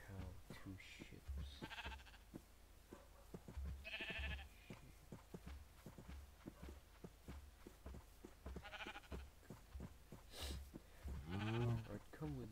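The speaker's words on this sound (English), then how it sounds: "let's tame some sheep and a cow over here." Minecraft sheep bleat repeatedly in a farm setting where a player is gathering sheep and a cow, short nasal baa calls scattered among footstep-like taps, fairly faint, with bursts of speech-like sound between them.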